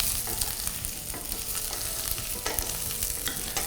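Mixed vegetables stir-fried over low heat for a seafood stew, a steady soft sizzle with repeated scraping and clacking of the utensil against the pan, close and continuous with no voices.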